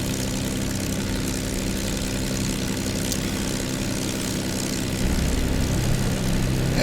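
P-51D Mustang propeller engine in the DCS flight simulator, a steady, heavy low drone with a faint rhythmic throb, heard alone at constant loudness and swelling slightly near the end.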